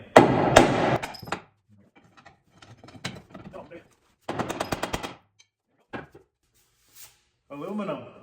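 A hammer and pry bar bang on a Chevy Silverado's solid axle during a swap, giving loud, sharp metallic strikes in quick rattling bursts separated by pauses, with some faint voices in between.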